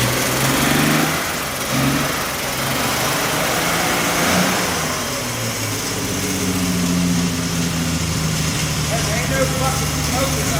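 An old Triumph TR6 barn find, its engine newly revived, idles and revs with a rough, uneven mechanical rumble while people talk nearby over the running motor.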